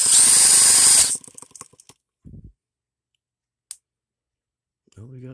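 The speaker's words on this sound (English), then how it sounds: "I'll grab our drill start" An electric drill used as a starter spins a Microcosm H76 model engine with a loud whirring burst of about a second, followed by scattered clicks and a few faint knocks in a quiet room.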